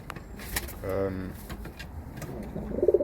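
Racing pigeons, including Bushard cocks, give soft low coos in a loft amid shuffling and rustling, with a brief cooing phrase near the middle and more near the end.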